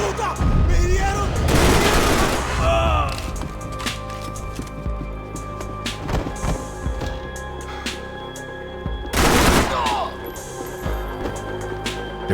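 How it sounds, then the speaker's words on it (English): Bursts of gunfire in the shooter game Max Payne 3, with two loud clustered volleys and scattered shots and thumps in between, while voices shout in Spanish over the action. "¡Cubrime que me están dando bala!"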